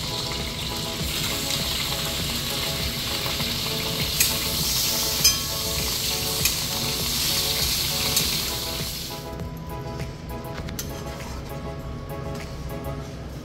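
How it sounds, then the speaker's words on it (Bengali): Chicken soup cooking in a pan gives a steady sizzling hiss with scraping stirs, then drops to a quieter simmer for the last few seconds. No voices are heard. "তো মা এখন হচ্ছে স্যুপ বানাচ্ছে"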